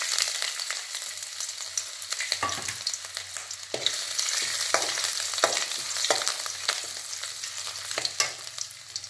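Ginger sautés in a little oil at the start of a Gobi Manchurian, a close, steady hiss with frequent crackles and repeated clacks of a stirring spoon against the pan, without speech.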